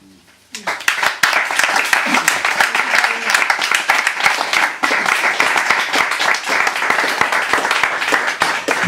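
An audience at a Dodo Modern Poets reading bursts into loud, steady applause after Isabel Bermudez's set. The clapping rises sharply from near silence and carries on evenly for several seconds, with a voice briefly heard at times.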